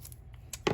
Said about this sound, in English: I'm just gonna take a pair of scissors, and I'm gonna cut off all the extra cardstock